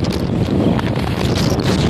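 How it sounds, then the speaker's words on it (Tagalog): Strong, loud wind roars and buffets the microphone continuously near a farm in Sapang Palay, a dense rumbling gust with no pauses. "Oh, lakas ng hangin."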